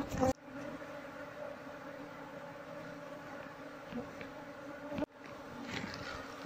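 A wild bee colony being calmed with smoke from burning egg cartons gives off a loud, continuous close buzzing drone, briefly cut off near the start and again around the five-second mark.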